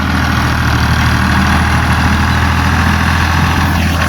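A tractor engine idles in a field during wheat sowing preparation, a loud, steady, close low rumble that holds throughout without talk.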